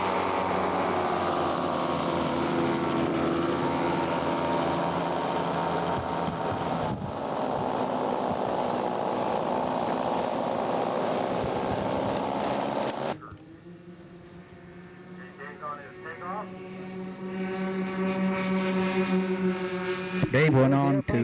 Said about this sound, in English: Dave Lovett's getting ready with his C-130 Hercules.